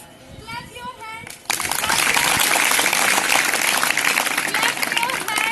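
Children clap their hands along to a song at a school event, a dense, loud burst of many hands beginning abruptly and continuing steadily under the music.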